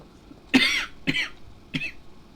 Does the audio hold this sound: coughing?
yes